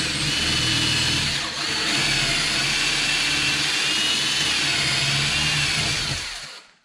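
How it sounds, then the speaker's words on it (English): A power drill bores out two rivets during a carbon fiber ZR1 wing install on a C7 Corvette, a loud, steady, buzzing whine running continuously for about six seconds before cutting off abruptly. "we're gonna go ahead and we're gonna drill out these two rivets right here"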